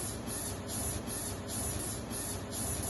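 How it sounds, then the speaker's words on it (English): Mould cleaning product is sprayed in a bathroom, heard as a soft, continuous hiss with repeated pulses of spraying, fairly faint and with no talking. "First step, we're going to spray. We're going to spray it."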